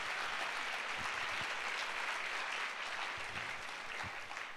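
A church congregation claps together, with steady dense applause that holds evenly throughout.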